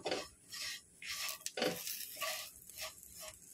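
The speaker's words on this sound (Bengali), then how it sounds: "মশলাটাকে আমি ভালো করে নেড়ে চেড়ে মাখিয়ে একটা ঝরঝরে থেকে পুর বানিয়ে নেব" Spiced lentil filling for dal puri being stirred and mixed, a close, quiet run of scraping, rubbing strokes in repeated bursts, with no voices.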